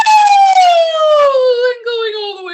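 A single voice imitates a siren during a vocal warm-up exercise, one loud, clear tone sliding smoothly downward from high to low with a brief break near the end.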